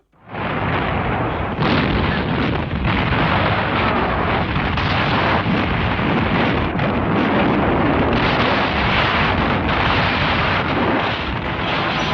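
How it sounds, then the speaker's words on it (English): Artillery bombardment of Warsaw in September 1939: a dense, continuous roar of explosions and shellfire thunders for the whole stretch, loud and relentless, with overlapping booms and no speech. "The final bombardment of Warsaw began on September the 23rd"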